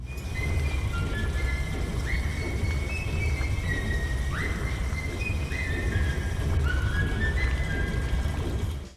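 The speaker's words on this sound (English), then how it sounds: "The one with the machine noise and the mysterious whistling sound?" Steady low machine rumble with a mysterious whistling sound from a Bendy and the Ink Machine game trailer, thin whistled tones gliding and rising repeatedly over the continuous drone.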